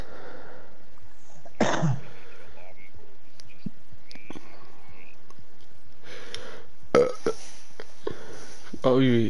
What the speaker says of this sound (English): Boys, I'm belching all night